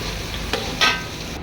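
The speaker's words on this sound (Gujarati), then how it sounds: "હવે આપણે એમાં લીલું લસણ એડ કરીશું અને લસણને પણ આપણે બરાબર શેકી લઈશું." Green garlic roasting in a hot pan, a steady close sizzle broken by two brief scraping stirs.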